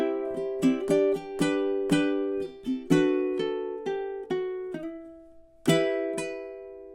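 Ukulele plays a stanza of the sea shanty The Wellerman alone: a run of bright plucked and strummed chords in steady rhythm, ringing close and clear, ending with a final sustained strum.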